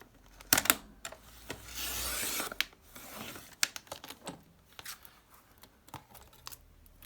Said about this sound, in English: with my paper trimmer, I'm just going to trim off the top edge